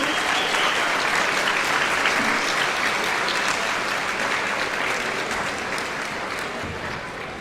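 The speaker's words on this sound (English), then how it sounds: "Can we give them a round of applause as well" Sustained audience applause for piano students at a school arts awards event, a dense steady wash of many hands clapping that fades slightly toward the end, with no talk over it.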